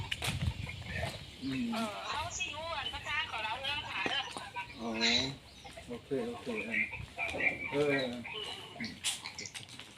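Chickens cluck and call on a small farm where ducks are also kept, several birds sounding near and repeatedly while a person talks over them.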